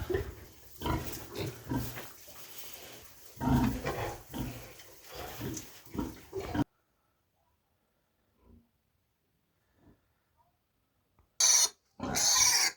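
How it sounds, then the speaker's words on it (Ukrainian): Five-week-old piglets grunting and snuffling close by in a loud, continuous burst of rough vocal noise, then near silence with a few faint sounds, before two short, sharp loud squeals at the end. "Так, така свинка."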